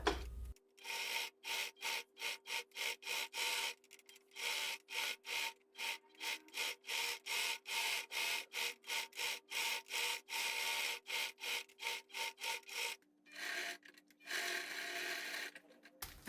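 Home sewing machine with a piping foot stitching piping onto the front panel of an insulated school lunch bag, a steady run of rapid mechanical bursts with short pauses between, close and alone.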